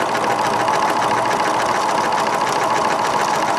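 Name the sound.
sewing machine stitching zigzag applique on fabric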